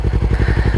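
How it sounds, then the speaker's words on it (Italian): Yamaha R3 sport motorcycle fitted with an Akrapovic exhaust, its engine idling loudly and close up with a steady, pulsing burble and rapid rhythmic exhaust thumps. "Questa è la moto"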